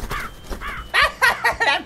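A crow caws several times, close and loud: two separate calls first, then a quicker run of four harsh caws, with no talking underneath.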